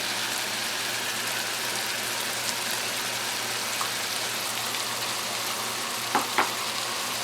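Chicken with seasonings sizzling steadily in a pot, a dense even crackle with a couple of brief stirring knocks near the end; no voices.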